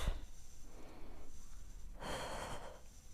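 A person exhales forcefully during an abdominal exercise, a breathy rush of air about a second long that follows a fainter earlier breath, close and unaccompanied by speech.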